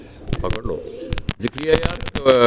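Pigeons kept by a Pakistani pigeon fancier coo in soft, throaty bursts close by, mixed with someone speaking briefly and sharp handling knocks and flutters between calls.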